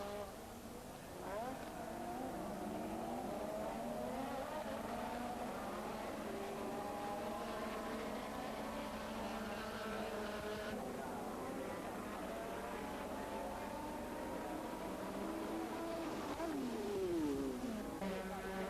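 1984 Formula 1 race cars scream past, high whining engine notes rising and falling as several cars pass in turn, heard at a distance under a narrator's voice.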